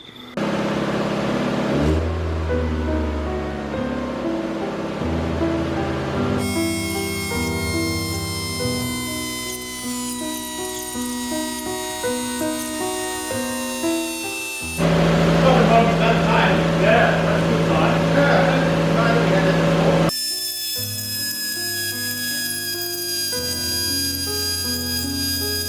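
An endurance race car being prepped before Winton runs laps around a yard, its engine droning and revving through several gear changes and passes, close and steady.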